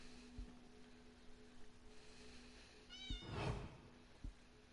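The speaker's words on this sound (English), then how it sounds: "Is that my cat?" A pet cat meows once, a rising-falling cry fairly close by, over quiet background noise from an Elder Scrolls Online Morrowind game session with a few soft thumps.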